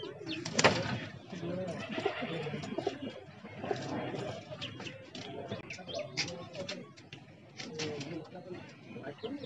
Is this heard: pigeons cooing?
yes